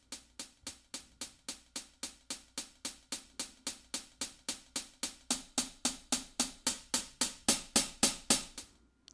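Crisp hi-hat hits programmed in Logic Pro repeat in an even, quick rhythm over four measures, starting soft and steadily growing louder toward the end.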